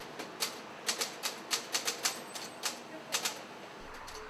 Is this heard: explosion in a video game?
no